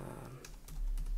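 Computer keyboard keys tapped while entering a gsettings command in elementary OS Luna, a short quick run of close, fairly soft clicks with no talking.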